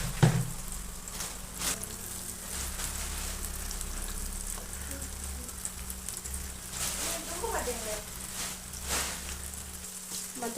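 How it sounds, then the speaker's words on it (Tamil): Prawns fry in hot oil, turned so both sides turn golden, giving a steady close crackling sizzle with dense spitting pops throughout. "இது மாதிரி எல்லா இறாலையும் நாங்கள் ஃப்ரை பண்ணி எடுத்துக்கிறோம்"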